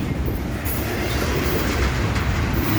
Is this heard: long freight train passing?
yes